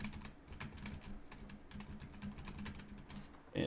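Rapid keyboard typing and mouse clicking during Halo Infinite play, a dense, quiet, steady patter of close key taps running throughout with no talk.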